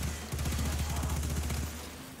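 Rapid sustained gunfire from the Destiny 2 raid Deep Stone Crypt, a dense rattling burst of automatic shots over game music and effects, loud and continuous for about two seconds.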